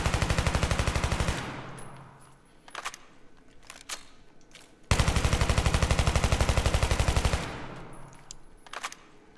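Automatic rifle fire in Battlefield 3, two long sustained bursts of rapid, evenly spaced shots, loud and close, with a short gap and a few stray clicks between the magazines.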